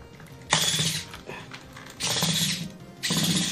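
Screws being backed out of a Madcatz arcade stick, three separate bursts of close, rasping ratchety turning, each lasting about half a second to a second, with quiet gaps between.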